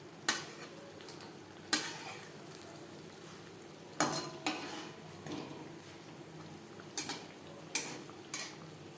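Chhanar jilapi sweets fry in hot oil, a soft continuous sizzle broken by repeated sharp clinks and scrapes as the pieces are turned in the pan.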